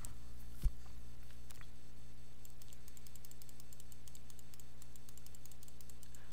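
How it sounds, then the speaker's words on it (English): Mouse and keyboard clicks while editing in Photoshop come as faint, rapid, light taps in a quiet room, with one sharper knock near the start. "You can probably hear me clicking away."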